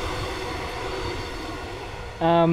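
A train rumbling past with steady broadband roar and rail noise, ending in a loud tonal horn-like blast near the end.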